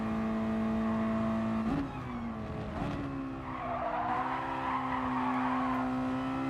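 A race car in GT Sport slides sideways through a corner, its engine droning steadily with a sustained tire-skid squeal swelling midway, loud and close, no talk over it.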